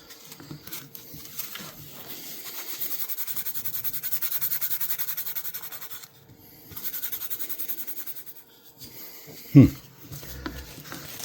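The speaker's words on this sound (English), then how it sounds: "I'm going to rub it with 180, see how it cleans up" A vintage shaving brush is rubbed with 180 grit sandpaper, giving close, steady, rasping strokes in long runs, with a short break in the middle and a sharp knock near the end.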